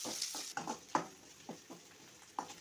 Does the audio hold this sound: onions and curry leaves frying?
yes